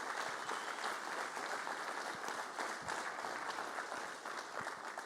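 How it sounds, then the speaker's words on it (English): A reunion audience applauds veterans' families, a continuous patter of many hands clapping at moderate distance, fairly quiet and steady throughout. "How about an applause for the support of the veterans?"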